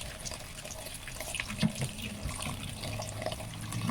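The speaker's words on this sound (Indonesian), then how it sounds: "Mau cuci berulang-ulang ya guys ya, biar benar-benar bersih dan tadi sisa-sisa garamnya tadi biar hilang." Papaya is washed under a weak, low-pressure tap. The water splashes and trickles quietly and continuously, with small splashes and knocks as the vegetables are handled.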